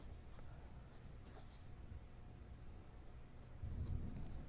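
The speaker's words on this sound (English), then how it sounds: "So now I'm going to bring my black colored pencil around like this." Black colored pencil on paper, a soft continuous scratchy rubbing with short strokes, faint and close, no voices.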